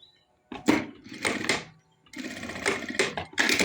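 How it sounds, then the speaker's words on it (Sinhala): A domestic sewing machine stitches fabric for a nightgown at home, running in two bursts of rapid, close stitching separated by a short pause. "මෙන්න මේ විදිහට මැහුම් හතරක් මහ ගන්න ඕනේ"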